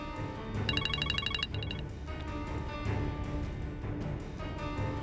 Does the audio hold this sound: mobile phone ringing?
yes